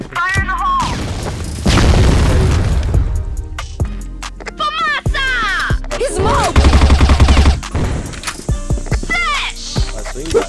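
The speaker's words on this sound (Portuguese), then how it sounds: "Granada!" A grenade goes off in a first-person shooter game, a loud boom set among dense bursts of gunfire and other sharp effects, with a player talking over the action.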